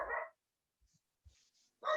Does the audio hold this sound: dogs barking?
yes